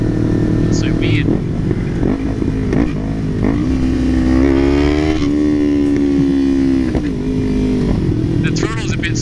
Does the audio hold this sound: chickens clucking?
no